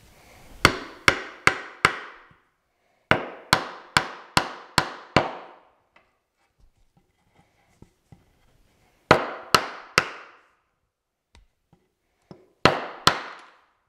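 Oak dowels hammered into a wooden rocker during a repair, sharp close blows in quick bursts of four or five strikes, separated by pauses with faint handling noises.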